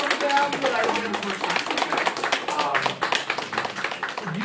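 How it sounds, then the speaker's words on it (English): An audience at a hypnotism show at a comic con gives volunteers dense, continuous applause, with many hands clapping close and loud throughout, and a few voices calling out beneath it. "I want a massive round of applause for these people"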